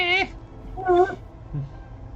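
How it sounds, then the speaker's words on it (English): A mother cat yowls at her kitten in a few drawn-out, rising meows, two clear calls followed by a softer low one, fairly close with a quiet background. "Cat. She's yelling at her kid because her kid climbed up on the couch."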